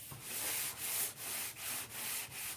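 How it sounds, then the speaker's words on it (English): Sandpaper rubs back and forth over a foam model wing in about six even strokes, a close, breathy scratching rhythm. "when you start sanding glue seams, you can hear the clicking noise"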